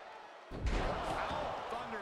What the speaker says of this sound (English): Oh, thunderous powerbomb.